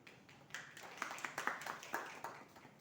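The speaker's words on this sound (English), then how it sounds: "we should clap for the people who are involved and who did this" A small audience at a smart grid lecture session gives a few seconds of scattered hand clapping. The claps are faint, uneven and sharp, with no talking over them.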